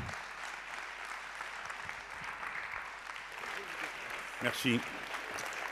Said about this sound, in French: je vous demande d'applaudir fortement Jean-Luc Mélenchon